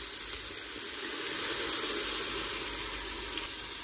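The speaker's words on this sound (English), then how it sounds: "Now we're gonna use the red wine, and that's gonna help to deglaze the bottom of the pan" Red wine poured into a hot pan in a Ninja Foodi to deglaze it hisses and sizzles steadily, a soft continuous steamy fizz with no talking.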